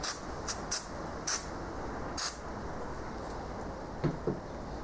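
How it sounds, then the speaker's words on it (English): Several short hissing bursts from an aerosol can of carb cleaner sprayed onto Mercedes engine lifters, each under a second, against a steady background hum, with two faint softer sprays near the end. "And now I'm gonna give the outside a quick spray too."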